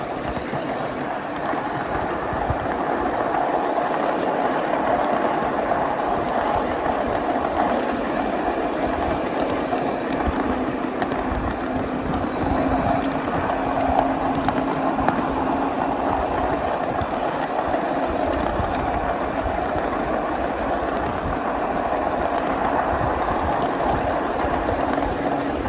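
A 7.5-inch gauge miniature flat/tank car rolls along a mainline track with a steady, even rumble. Soft wheel clicks run through it at moderate volume for the whole stretch, with no voices.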